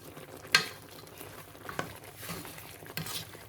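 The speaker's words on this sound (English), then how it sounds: "So right now I'm going to stir everything together." Chinese beef sauce is stirred in a pot with a few faint scrapes and clinks of the utensil over a quiet, soft sizzle.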